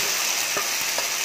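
Minestrone soup with macaroni, tomato purée and boiled vegetables is stirred in a pot, a brief steady bubbling hiss with a couple of soft spoon knocks, close by and without talk.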